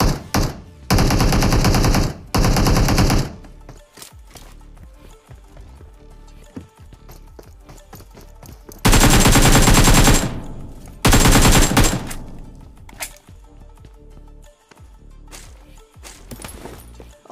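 Loud, close bursts of automatic gunfire from Battlegrounds Mobile India gameplay, two long rapid volleys separated by quieter stretches of scattered shots and movement sounds.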